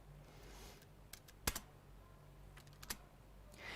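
Light typing on a computer keyboard during a Python coding session, with a few sharp key clicks and short bursts of tapping over a quiet background.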